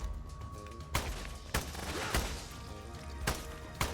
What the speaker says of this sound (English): I clearly shot him in the head, I don't know how many times.